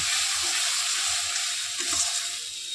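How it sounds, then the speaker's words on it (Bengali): A paste of ground coconut, black and white mustard seeds, green chilli and tomato fries in a pan with a constant, fairly close hissing sizzle and no talking. "মশলাটা প্রথমে একটু কষিয়ে নেবো"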